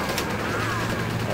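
Video game gunfire from Cel Damage HD, a dense, loud burst of rapid shots filling the moment with little pause.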